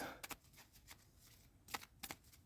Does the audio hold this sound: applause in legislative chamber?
no